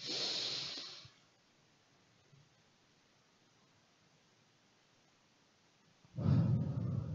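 Deep, forceful breaths are drawn in and pushed out during a guided breathing exercise: one loud, close breath at the start, a long quiet pause, then another strong breath at the end.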